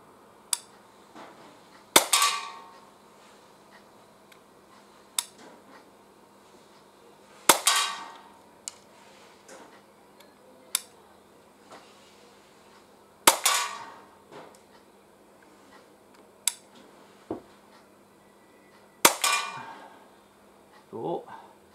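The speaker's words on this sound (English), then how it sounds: "I've got a metal plate behind this target, so you will hear some noise." Pellets from an Umarex Glock 17 Gen 5 air pistol strike a metal plate behind a target, each shot a sharp crack followed by a ringing clang, several spaced seconds apart, with fainter clicks between.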